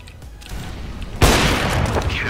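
A molotov bursting into flame in a competitive shooter match, a sudden loud whoosh and boom followed by sustained roaring fire noise, with quieter game sounds before it.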